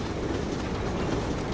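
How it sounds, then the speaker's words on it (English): A train rolls along in the video game Lost Planet 2, a steady, loud rumble with rail clatter holding at an even level throughout, with no voices over it. "I think that train's moving up now"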